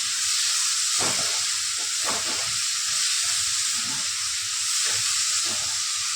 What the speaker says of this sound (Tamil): டொமேட்டோ கொஞ்சம் வேகிற வரைக்கும் வதக்கணும்